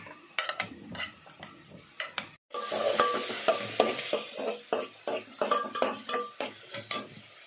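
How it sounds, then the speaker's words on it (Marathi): Pav bhaji being mashed and stirred in a pan with a hand masher, giving repeated close scraping, squelching strokes in a steady rhythm with a short pause, and no talk. "मिक्स करत राहायचं। रवीच्या साहित्याने स्मॅश करून घ्यायचं।"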